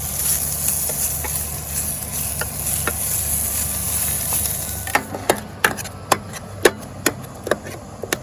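Sausage frying in a mess kit pot outdoors at Clifty Falls, Indiana: a steady close sizzle for several seconds, then a run of sharp metallic clinks and taps from the utensil against the pot, with no talking.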